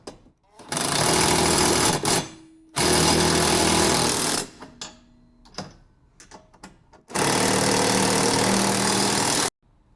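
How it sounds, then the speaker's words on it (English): An impact driver hammers on axle hardware of a DR Leaf Vac in three loud, close rattling bursts of a few seconds each, separated by quieter pauses with small clanks and handling, no talking. "To tighten up this hardware, you'll need a 9/16 wrench and 9/16 socket. Either a ratchet or an impact driver will work."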